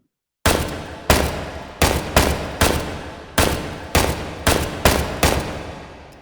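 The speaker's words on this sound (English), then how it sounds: "let's fire it on irons first" A semi-auto rifle in the virtual reality shooter H3VR fires on iron sights, loud single shots cracking out one by one at a fairly even pace, about nine in total, each with a short decaying tail.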